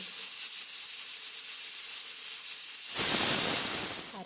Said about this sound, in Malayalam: രണ്ട് വിസിൽ കേട്ട് കഴിയുമ്പോൾ നമ്മൾ ഓഫ് ചെയ്യുവേ.